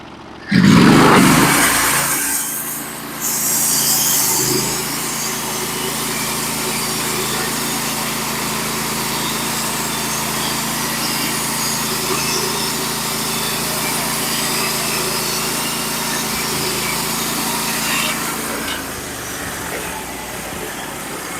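A Norwood HD36v2 sawmill engine cuts through a 5-foot cedar log, a loud, steady drone holding for about eighteen seconds before it drops away near the end.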